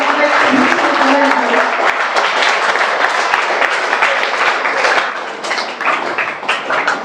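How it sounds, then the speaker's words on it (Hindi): A children's audience at a scientist workshop applauds a guest scientist with loud, dense clapping that starts strong, holds for several seconds, then thins out toward the end. "तो जोरदार तालियां सर के लिए।"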